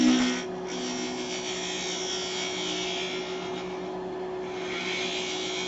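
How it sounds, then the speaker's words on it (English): Hand scraper truing up a wooden chess piece blank spinning on a lathe, a steady, continuous scraping rasp with a constant motor hum beneath it. "So we're just going to true this up a little bit with a scraper."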